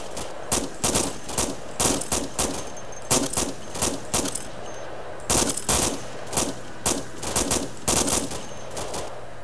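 Arma 2 video game gunfire, with loud close bursts of automatic weapon fire repeating in short volleys separated by brief gaps.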